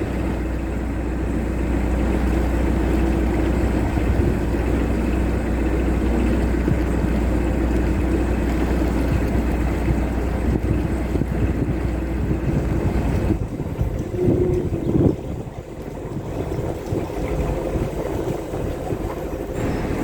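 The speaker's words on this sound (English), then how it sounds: "Well, I've just let that boat pass." A boat passes a moored canal boat on a narrow canal: a steady, low engine rumble with wind buffeting the microphone, which dips and shifts partway through as the boat goes by. No one speaks.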